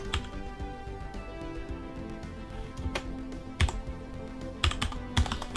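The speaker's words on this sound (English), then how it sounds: "Oh, why are you not typing? I'm sure I was typing there." Computer keyboard typing during a Stellaris strategy game session, a steady patter of key taps with a few louder, sharper strikes, heard alone without voices.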